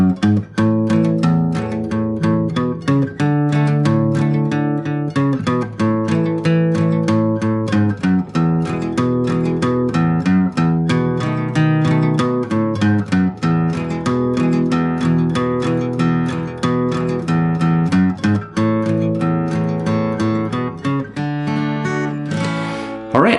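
Guitar playing the intro riff of a song, with a steady, fast stream of muted, percussive picked notes and chord changes, close and loud, alone without voices.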